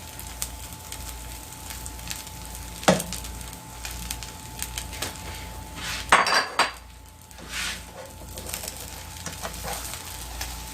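Utensil clinks and pan scrapes as an egg omelet topped with mozzarella and vegetables is folded in a frying pan, with a couple of sharper knocks over a faint steady background.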